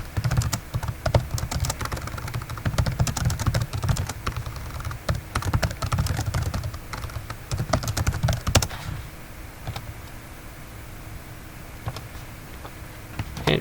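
Fast, steady clicking of keys on a computer keyboard fills the scene in dense bursts, easing off into lighter, sparser taps toward the end, close and clear with no voices.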